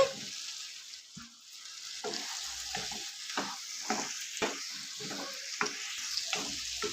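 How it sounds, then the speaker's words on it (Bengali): Potatoes and green jackfruit fry in spiced masala for a prawn curry, a steady close sizzle with repeated stirring scrapes in a regular rhythm throughout. "আলু আর এঁচড় আমি একসাথে দিয়ে দিচ্ছি"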